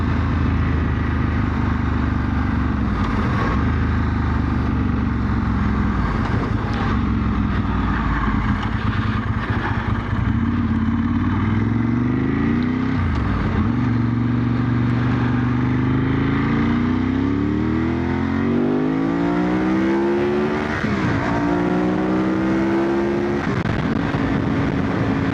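A Ducati 916 motorcycle engine roars loudly and continuously, pitch climbing and falling through repeated revs and gear changes as it passes close by.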